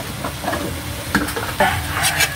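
Chicken simmering in coconut milk with papaya is stirred in a pot, a steady close scraping and splashing stir over continuous sizzle, with occasional louder knocks of the spoon against the pot.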